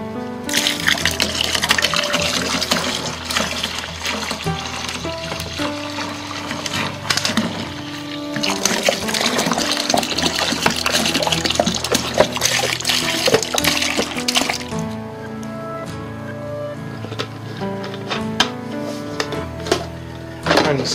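Water pours steadily into a homebrew lager kit fermenter, making a continuous close gushing and splashing sound that shifts in tone partway through, with faint steady tonal sound behind it.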